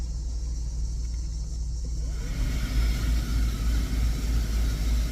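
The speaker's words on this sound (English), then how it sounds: "There goes the blower motor" A Jeep's heater blower motor spins up inside the cab over the running engine's low rumble, adding a steady airy whoosh that starts about two seconds in and holds, close and moderate, with no speech.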